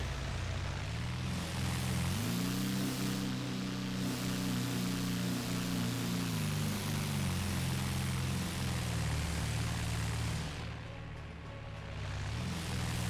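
A propeller airplane engine drones steadily and loudly throughout as the aircraft approaches a runway in a video game, its pitch shifting slightly as it turns in, with no voices.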